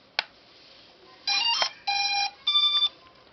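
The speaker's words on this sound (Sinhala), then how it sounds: "මම මුලින්ම ඩ්‍රෝන් එකේ පවර් බටන් එක ඔන් කරගන්නවා" A toy drone powers on with a short click, then three loud sustained electronic beep tones in an even rhythm, close and alone without talk.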